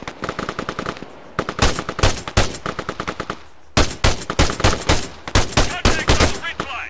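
Rapid machine gun bursts and single rifle shots ring out in an ArmA 3 battle, loud and close, firing in repeated dense volleys across the whole stretch with only brief pauses between them.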